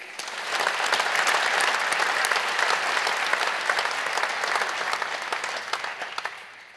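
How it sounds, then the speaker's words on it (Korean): A church congregation gives sustained, dense applause at an elders' installation worship service, holding steady for several seconds before tapering off near the end. "박수 한번 쳐주시기 바랍니다."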